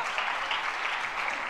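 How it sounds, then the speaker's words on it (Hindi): Strong, dense applause from a seated audience at a Jain religious discourse session with Sudha Sagar Ji Maharaj, a brief burst of many hands clapping together at steady volume. "जरा एक बार जोरदार तालियां इन सभी के लिए"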